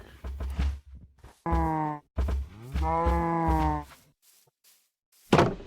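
Cows mooing in the Minecraft video game, a series of drawn-out harmonic lows, two long calls close together in the middle, with clicks and a loud burst at the end.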